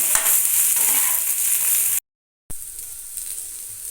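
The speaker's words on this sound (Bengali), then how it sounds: "সবজিটা ভাজার সময় আমি গ্যাসের ফ্লেমটাকে ফুল করেই রেখেছি" Pumpkin, eggplant and potato pieces fry on a full gas flame, a loud steady sizzle and crackle with a brief silent break in the middle.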